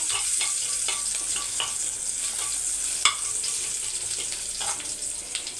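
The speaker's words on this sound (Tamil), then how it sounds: "கடுகு சீரகமும் நல்லா பொறிஞ்ச வந்தவுடனே ரெண்டு காஞ்ச மிளகா ஒரு பத்து பல் பூண்டு நல்லா ஃப்ரை ஆகட்டும்" Oil sizzles and crackles steadily as mustard seeds, cumin, dried chillies and garlic fry, with scattered pops and spits and a few stirring scrapes in the pan; no one speaks.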